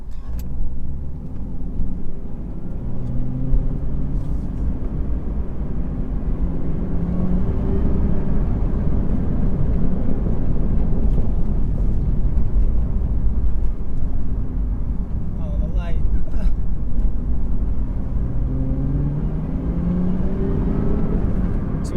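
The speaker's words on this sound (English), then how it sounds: "you can hear the supercharger whine a lot better" A 2021 Chevrolet Camaro ZL1 1LE with a Rotofab intake drives at a steady, loud engine drone, and a faint supercharger whine rises and falls through it.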